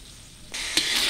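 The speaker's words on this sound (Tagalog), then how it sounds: "Gisang-gisa na ang giniling" Ground pork with soy sauce sizzling as it is sautéed in a pan, a quiet background hiss that suddenly swells into a loud, bright sizzle with a stirring scrape partway through.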